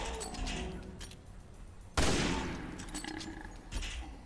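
Gunfire in the video game Resident Evil 6, a sharp loud blast at mid-clip with a decaying tail, set among softer scattered shots and game ambience, with no talk over it.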